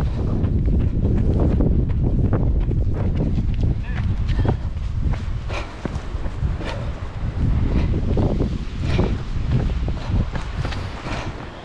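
Strong coastal wind buffets the microphone during a long ultra trail run on the Côtes d'Armor coast, a constant low roar with gusts, while a runner talks over it.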